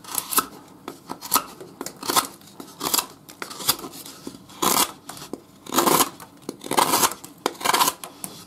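An SRM Rubik 7228L-GB Blackwash folding knife, used without its clip, whittles wood in a series of about a dozen rhythmic, crisp scraping strokes, close up and alone without talk.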